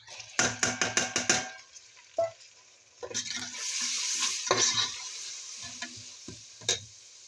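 Tomatoes, green chilies and ginger drop into a hot pan, opening with a rapid run of stirring clatters, then a steady oil sizzle with scattered scrapes and knocks of a utensil against the pan.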